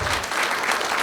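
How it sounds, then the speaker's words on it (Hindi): A dense burst of applause from a live audience, loud and continuous through a brief moment. "ये तालियां यार, ये बिहारी लाखों पे भारी"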